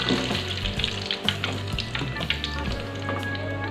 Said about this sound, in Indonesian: Sambil mau aku goreng lagi kuenya.